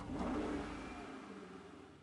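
Muscle car engine in GTA 5 Online revving loudly, then settling into a steady, fading drone over two seconds with no talk.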